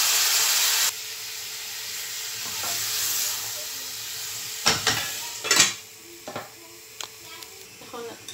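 Tomato being added to a spiced masala in a pan with coriander, cumin and turmeric powders. A loud sizzle opens, then a softer simmer continues under several stirring scrapes and clinks, with no talk.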